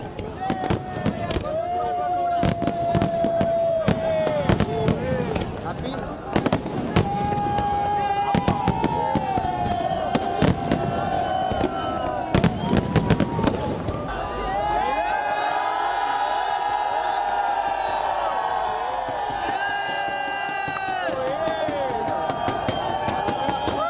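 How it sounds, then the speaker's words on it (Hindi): Fireworks bursting over Pakistan for New Year celebrations, repeated sharp cracks and bangs with crackling, heard alongside crowd noise and people talking, then a stretch of dense cheering and whooping. "जहाँ पर ये खूबसूरत आतिशबाजी का मुजाहिरा हमें देखने को मिल रहा है।"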